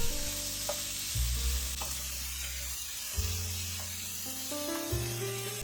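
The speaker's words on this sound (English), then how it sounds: "After sizzling the chicken for about 3 minutes" Continuous sizzling and hissing of marinated chicken frying in a hot pan, with a few light clinks from stirring over a low droning background.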